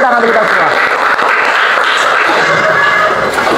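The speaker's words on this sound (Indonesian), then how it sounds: "Tepuk tangan kita semua." A class of schoolchildren claps together in a dense, steady burst of applause filling a classroom, loud and close for a few seconds, with voices mixed in.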